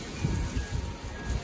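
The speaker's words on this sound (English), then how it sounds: "it's starting to rain. Pretty heavily now." Heavy rain beginning during a squall line storm behind a cold front, a dense, steady wash of drops pattering on surfaces nearby, with low gusty rumbling beneath and no talk.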